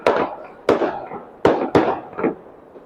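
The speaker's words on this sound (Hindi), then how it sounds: "पटाखे फूट रहे हैं।" Firecrackers bursting outdoors during Makar Sankranti celebrations, five sharp loud bangs in irregular succession, each with a short echoing tail.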